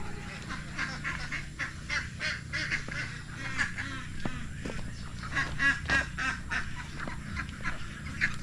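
A duck quacks repeatedly in short, rhythmic bursts at close range outdoors, a steady run of nasal calls with low background noise and no clear talk.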